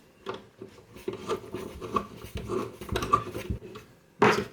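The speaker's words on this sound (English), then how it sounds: "your 2 screws here, which you want to screw in" Screws are driven into a PlayStation 2 hard drive mount with scraping, rasping turns and small metallic clicks, close up, ending in a louder final scrape.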